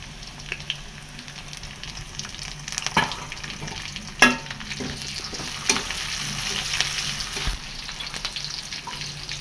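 Onions with garlic and chillies frying in a pan for a taro-leaf and pangas fish head dish: a continuous close sizzle broken by sharp stirring clatters and spoon knocks.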